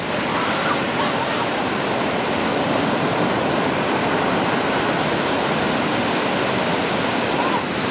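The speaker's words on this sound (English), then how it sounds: "just do a nice, beautiful, relaxing view of how awesome these waves are" Ocean waves roll in at Cocoa Beach in Florida, a loud, continuous broadband wash of surf with no break or voices over it.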